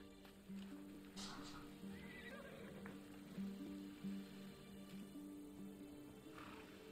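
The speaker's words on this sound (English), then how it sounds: "Hey, horse. Don't be too scared. I'm gonna tame you." A horse whinnies and snorts in the video game Immortals Fenyx Rising over a low, steady musical backdrop, with faint hoof-like clops; a voice is heard briefly.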